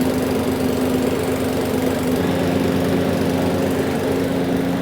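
A PowerSmart 209cc gas lawn mower engine runs steadily at full throttle after starting, a loud continuous droning hum with no pauses or voices.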